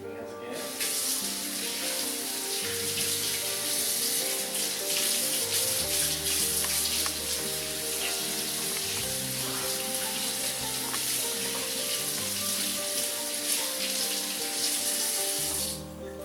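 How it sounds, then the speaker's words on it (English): A kitchen tap runs in a steady loud rush while hands are washed beneath it, the splashing continuous and close for about fifteen seconds before the water shuts off. "Wash my hands again."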